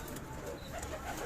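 Pigeons coo softly in a breeding loft of Karachi high-flyer pigeons, a low continuous murmur of several birds close by with no talking.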